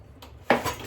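Steel kitchen pots and dishes clatter once in a short, sharp clink while being handled before washing, close and fairly loud against a quiet room.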